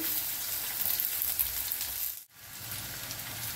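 Onions frying in a pan for a spicy mustard dish with drumsticks, a steady close, dense sizzle that holds throughout and briefly cuts out near the end before resuming.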